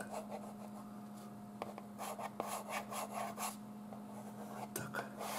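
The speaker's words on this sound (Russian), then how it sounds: "сейчас я нарисую, такой крючок" A pen or pencil scratches and rubs across paper while a hook shape is drawn by hand, with short strokes close and soft over a low steady hum.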